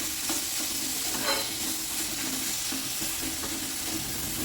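Steady frying sizzle of tomatoes in a pan, a continuous hiss with light stirring scrapes, close and fairly loud, no voices.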